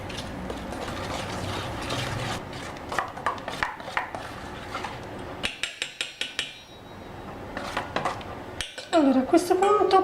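Spoon stirring orange juice into powdered sugar glaze in a bowl, a run of rhythmic clinks and scrapes against the dish, close and steady.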